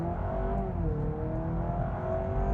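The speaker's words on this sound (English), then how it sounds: "But I can hear that engine" A 2026 Honda Prelude engine hums steadily and its pitch slowly climbs as it speeds up, a continuous close drone with no talking.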